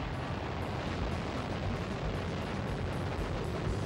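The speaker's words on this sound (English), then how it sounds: "We have ignition and liftoff of a Delta II rocket carrying Deep Impact." Delta II rocket carrying the Deep Impact spacecraft igniting and lifting off, a steady, dense, loud roar that fills the whole span without break.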